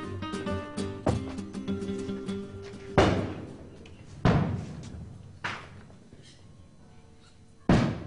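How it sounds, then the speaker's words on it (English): Fireworks explode across Mexico at the end of Day of the Dead festivities: several sharp, heavy bangs at irregular intervals, each trailing off in a ringing decay, with faint tonal sound early on. "To the sound of fireworks all across Mexico, it's time to say goodbye for another year."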